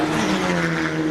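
An F4 race car engine roars at a Chennai street race. The sound is a loud, close, continuous high-revving blare filling the whole moment, with no voices.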